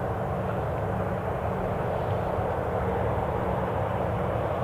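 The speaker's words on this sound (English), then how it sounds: "Let's watch this Ryanair departure" A Ryanair jet departs Newcastle International Airport: a steady, broad rumbling roar from some distance, fairly constant in level throughout, with no talking.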